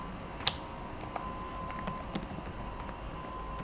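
Close computer keyboard typing of a MATLAB command, a short run of light, irregular key clicks over a steady background hum.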